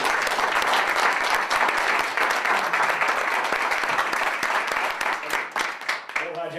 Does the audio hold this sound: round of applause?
yes